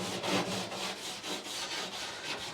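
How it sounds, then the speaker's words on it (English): Steady rhythmic scraping of a wire brush cleaning a welded area on a boat hull, with quick back-and-forth strokes close up and continuous through the clip. "we've just been cleaning up that area with a wire brush"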